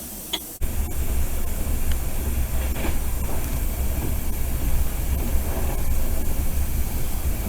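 A passenger train travelling from Sofia to Varna, Bulgaria rolls along steadily with continuous rumbling and rattling of the carriages, a sharp clunk near the start, no talking.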